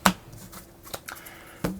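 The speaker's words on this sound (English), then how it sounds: "Now we shuffle it up again." Several dry, papery riffles of a deck of playing cards being shuffled during a tabletop card game, heard up close, with a sharp burst at the start and another near the end.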